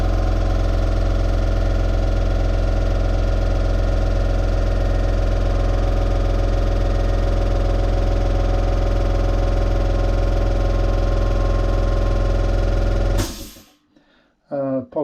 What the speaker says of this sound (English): apologies for the compressor again